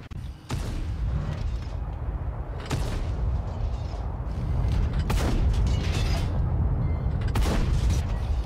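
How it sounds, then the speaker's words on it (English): Modded World of Tanks Blitz tank guns fire several loud, sharp booms spaced a couple of seconds apart over a steady engine rumble and mechanical creaking. "we gotta test out the gun sounds as well"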